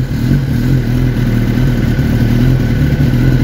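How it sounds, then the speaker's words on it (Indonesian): Kawasaki ZX-10R sport motorcycle fitted with a Spark aftermarket exhaust, revving with a loud, steady, close engine roar and rumbling low throb held throughout, no voices. "itu dia suara dari Kawasaki ZX10R"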